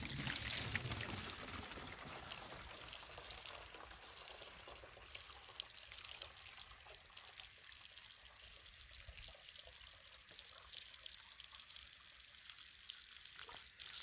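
A DIY 24-volt solar well pump runs water into a one-gallon container, making a faint, continuous pouring splash that holds steady throughout with no speech.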